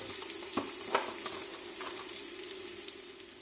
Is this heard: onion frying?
yes